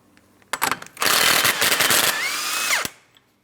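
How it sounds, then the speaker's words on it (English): An impact or ratchet tool spins a 34mm socket on the front axle nut of a 2004-2008 Pontiac Grand Prix, a brief burst of rattling followed by a loud, sustained whirring run that winds down, close by with no talk. "Use a 34mm to remove your axle nut."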